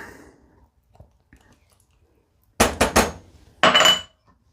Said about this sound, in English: So now you dump everything into your saucepan with your 2 sticks of butter in there.